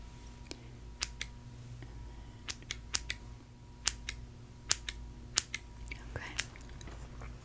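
Small scissors trimming eyebrows make a series of soft, crisp snips at an uneven rhythm, close and quiet against a faint steady hum.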